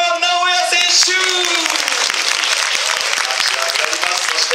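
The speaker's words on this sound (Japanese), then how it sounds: "拍手が上がります" Crowd applause at an ice hockey team's fan appreciation day awards ceremony, steady dense clapping rising under an announcer's voice and music at the start, then continuing loud and even.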